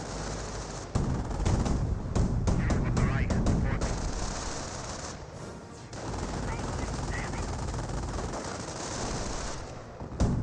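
Battle noise from Company of Heroes, a World War II strategy game: a steady roar of gunfire with scattered sharp shots and bursts against a sniper position, continuing throughout under a commentator's voice.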